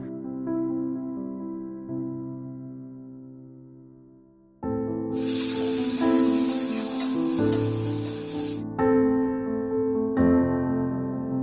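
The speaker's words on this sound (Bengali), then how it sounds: "পটলটা একটু নেড়ে 2 মিনিট পর পেঁপে, বেগুন, মূলো, কাঁঠাল বীজ যেগুলি বাকি আছে সেগুলি দিয়ে ভেজে নেব।" Papaya, eggplant, radish and jackfruit seeds hit hot oil midway, bursting into a loud bright sizzle that then settles to a steady frying hiss, over a continuous background of sustained musical tones.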